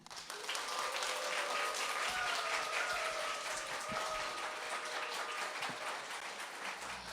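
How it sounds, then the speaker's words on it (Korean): Steady, loud applause from a seated audience at an outdoor book-fair reading performance in a secondhand bookstore alley, welcoming actor Lee Won-jong onstage; dense clapping fills the whole stretch with a faint tonal whine running underneath. "배우님이 나오실 때 여러분의 크고 다정한 박수를 부탁드립니다"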